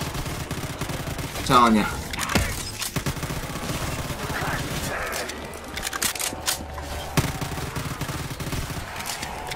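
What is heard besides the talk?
gunfire from a wall-buy gun in a Call of Duty Zombies video game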